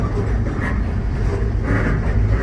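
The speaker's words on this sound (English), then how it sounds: "I hear a train." A KCS/UP freight train rumbles steadily past at close range, a continuous low roar with rolling wheel and rail noise that holds through the whole stretch, with no one talking.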